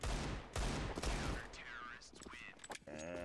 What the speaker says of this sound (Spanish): porque dispara al suelo?